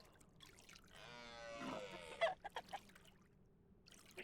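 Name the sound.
chicken clucking in a video game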